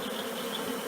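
A swarm of honey bees buzzes around a box lodged in the crotch of a tree, a faint, steady drone with thin whining tones drifting through it.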